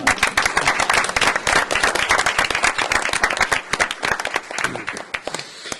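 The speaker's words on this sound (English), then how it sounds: "Round of applause, I think." Board of education meeting audience giving a round of applause, a dense, even patter of many hands clapping close and fairly loud, tapering slightly toward the end.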